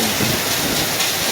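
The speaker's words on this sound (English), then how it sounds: "Look. Hail. Storm." Heavy rain and hail pounding down during a thunderstorm in Delhi NCR, India, a dense, constant hiss and clatter with a low thunder rumble underneath, loud and close throughout, with no voices.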